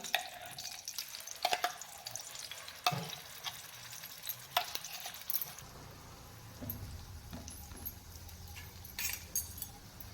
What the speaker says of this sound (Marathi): आता आपण हा मसाला तेलावर परतून घेऊया